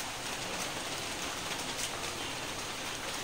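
Heavy rain falls in a dense, even patter across a surface, a constant close hiss of drops with no voices over it.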